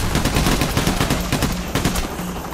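Rapid gunfire from the video game Payday, a dense string of close, loud automatic shots in quick rhythm with no talking.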